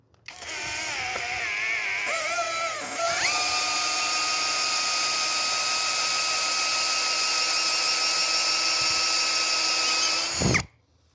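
Two cordless drills, a Makita DHP490 and a Hanabi LJ2005, bore through material with a demanding bit, giving a loud, steady close whine that ramps up and shifts pitch early before holding constant for several seconds, then stops abruptly.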